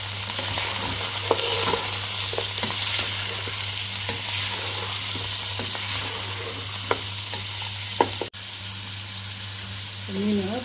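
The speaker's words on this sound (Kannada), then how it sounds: "ಪುಡಿ ಮೀನು ಓಕೆ ಇಂದು ಎಣ್ಣೆಡ್ ಫ್ರೈ ಮಾಡ್ಕೊಂಡು" Small fish frying in oil in a home kitchen for a coastal Tulu-style fish dish, a steady close sizzle with a few clinks and stirring scrapes, and someone talking softly over it.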